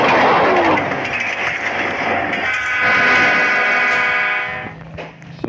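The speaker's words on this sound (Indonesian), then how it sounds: "Serem banget itu kereta." A train rushes past in a Roblox ragdoll game, loud rumbling with a long sustained horn blast that fades out near the end, no talking over it.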